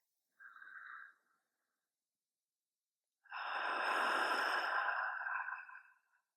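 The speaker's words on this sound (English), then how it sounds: "cleansing breath." A deep cleansing breath during a calm yoga session: a short inhale, a pause of silence, then a long, full exhale rushing out close to the microphone.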